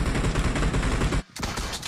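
Dense, loud automatic gunfire in PUBG Mobile, a rapid burst that cuts out for a moment and then resumes just as fiercely.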